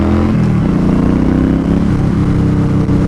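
A Yamaha Star Stryker 1300 cruiser motorcycle engine rumbles loud and close, holding a steady low throb with a slight rise in pitch as it pulls away slowly.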